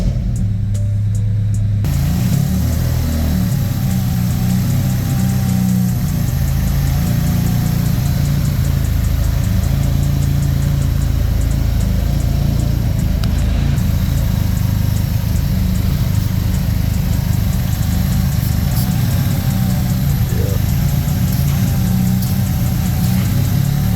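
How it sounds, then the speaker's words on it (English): A Honda Civic EK with a D16Z6 VTEC engine idles steadily, a loud continuous mid-pitched engine hum that runs unbroken for the whole span with no talking. "I don't want the engine to get all hot because I do think I'm gonna take it off anyway, but we're just gonna test it and see."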